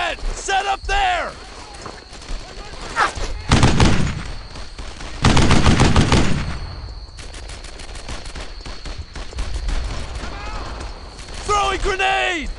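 Gunfire in the World War II shooter game Brothers in Arms: Earned in Blood, loud bursts of rifle and machine-gun fire in rapid volleys, mixed with shouted voices and battlefield noise.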